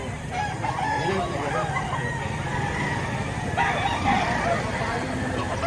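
Roosters crow repeatedly amid clucking chickens at a crowded poultry market in Lipa, Batangas, with a steady background din and people talking nearby.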